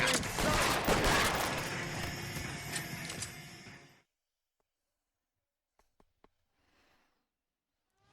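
Gunfire in the L.A. Noire video game, a dense loud burst of rapid shots and clattering impacts for about four seconds, then near silence broken by a few faint clicks and a soft rustle.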